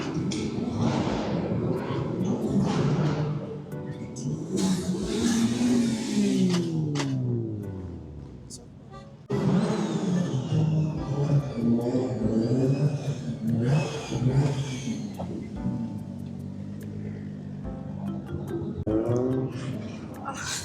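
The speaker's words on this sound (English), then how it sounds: "Can y'all hear all the cars?" Cars revving and driving past at the Chicago auto show's Chi-Town Alley, a steady loud engine rumble with rising whirs and occasional thuds, with voices talking over it.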